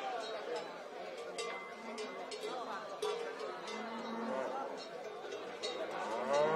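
Cattle lowing at an outdoor livestock fair in the Cabuérniga valley of Cantabria, Spain, with several moos rising over a steady murmur of crowd chatter and someone talking over a public address.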